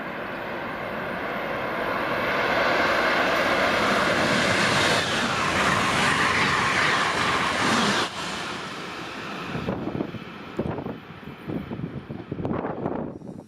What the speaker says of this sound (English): and thanks to Steve of How We Get Around, we get to see our train whip past at top speed.